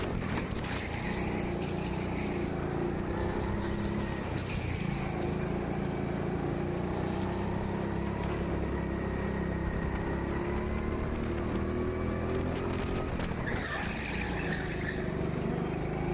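A petrol go-kart engine racing around an indoor track, a constant close buzzing drone that rises and falls in pitch through the corners, with a brief surge near the end.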